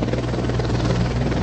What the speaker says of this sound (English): the helicopters flying above us